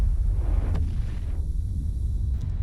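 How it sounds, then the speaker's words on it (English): Deep rumbling blast of a nuclear explosion in Fortnite, a loud sustained low roar with no distinct onset, filling the whole moment. "A nuclear explosion releasing a pool of nitro that forces the box out from hiding."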